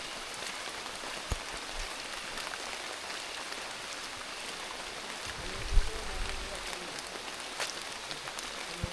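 Rain falls on a hiking trail on Mt. Romelo as a faint, steady, soft patter and hiss, with a low muffled thump partway through.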